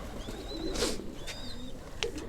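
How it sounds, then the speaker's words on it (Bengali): Old pet pigeons, a pair of high flyers, coo softly in a home loft, a few faint calls and wing rustles over a quiet background. "এই যে নিচে এক পেয়ার আমাদের বাসার অনেক পুরানো কবুতর"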